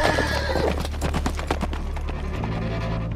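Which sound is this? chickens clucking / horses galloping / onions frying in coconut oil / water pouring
horses galloping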